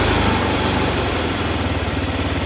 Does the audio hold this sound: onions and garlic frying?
no